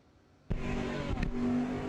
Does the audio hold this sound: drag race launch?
yes